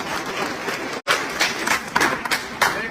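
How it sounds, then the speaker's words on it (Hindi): A crowd at an Independence Day (15 August) political speech applauds with a dense, steady patter of clapping, briefly breaking off before resuming at moderate loudness. "उन सब के लिए तालियां जो है"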